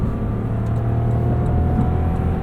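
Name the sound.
2019 Lexus LX 570 engine revving under throttle while driving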